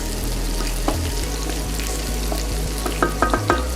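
Salisbury steak patties frying in a pan give a close, continuous sizzle, with a few sharper spits and pops near the end and no talking.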